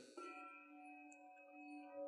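A deep, resonant G2 handbell, weighing about 20 pounds, rings and sustains with rich overtones, fading slowly, heard alone and fairly quiet.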